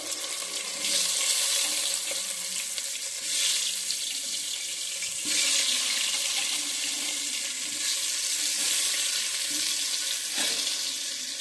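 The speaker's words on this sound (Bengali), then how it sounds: "এখন আলুটা ভেজে নেব" Steady hissing sizzle of half-boiled potatoes frying in oil in a pan, close by, with occasional clinks and small splatters, no talking.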